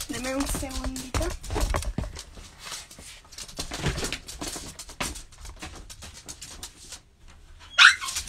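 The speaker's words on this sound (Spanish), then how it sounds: "Discúlpenme que mis perros andan acá." Pet dogs moving about a home room during an online class, giving a few brief whines and yips near the start, then scuffling and patter under a person talking.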